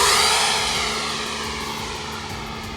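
Electric RC F-22 model jet flying on LiHV battery packs, a steady motor whine with a constant high tone that fades gradually as the plane moves away, heard alone without talk.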